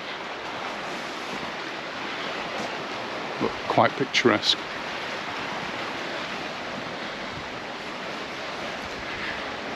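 Surf washes steadily against the sea below a cliff in Mallorca, a constant broad wind-blown roar, while someone speaks briefly over it partway through.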